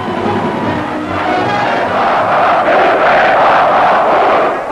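Large crowd of about 35,000 at an army-navy American football match in Sydney, a loud continuous wash of cheering and applause that swells toward the end.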